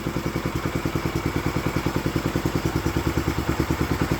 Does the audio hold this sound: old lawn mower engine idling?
yes